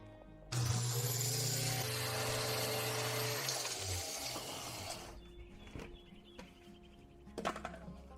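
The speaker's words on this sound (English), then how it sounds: "these are fallen leaves in the garden. I'll crush them for composting." A homemade grinder built from a pan shreds fallen garden leaves for compost, giving a loud, steady whirring roar with a rough churning texture for several seconds before it winds down to quieter rattles and background noise.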